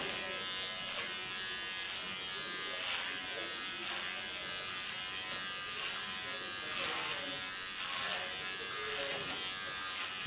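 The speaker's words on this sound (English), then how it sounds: "You can hear how wonderful thick her hair is, because the clipper blades get stuck in it." Electric hair clippers buzz steadily close by while cutting thick hair for a pixie cut, their drone dipping and surging in a loose rhythm as the blades catch and work through it.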